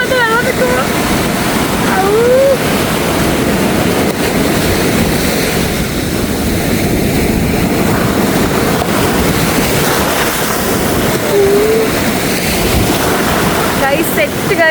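Sea waves wash continuously on Ponnani beach at night, a loud steady surf roar with wind buffeting the microphone throughout; no voices can be made out.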